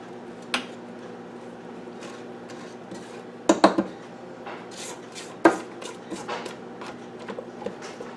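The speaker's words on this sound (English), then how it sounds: "scrape that bowl" A spatula scrapes and knocks around a mixing bowl of banana cake batter, scattered clinks and scuffs over a low steady hum, a few sharper taps near the middle.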